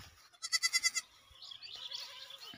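A young goat in a field lets out one close, clear, wavering bleat, followed by quieter rustling and softer animal sounds nearby.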